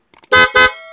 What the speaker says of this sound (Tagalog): loud horn.